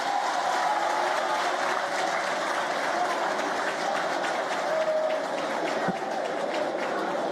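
A crowd at a speech by Emmanuel Macron applauds French soldiers with steady, moderately distant clapping that holds evenly throughout, with no voices on top.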